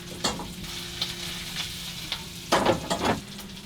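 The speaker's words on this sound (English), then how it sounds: "So I'm just cooking this now until the skin that's on the tentacles goes pink." Octopus tentacles fry in a hot pan with a steady close sizzle, broken by several sharper crackling bursts as they are stirred and moved around, with no talking.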